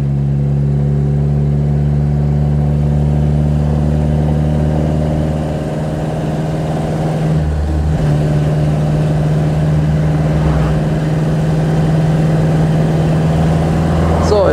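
A 1940 Rosengart LR539 Supertraction engine drones steadily while driving through the Bavarian Alps, loud and close with a low hum throughout and a brief dip near the middle as if shifting gear; someone speaks over it.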